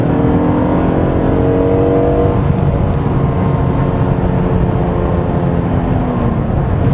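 A 2021 Kia K7 Premier (Cadenza) with a 3.0 GDI engine in sport mode, revved hard at full throttle: a loud, steady engine roar with rising harmonics near the start, then a broad sustained drone under road and wind noise.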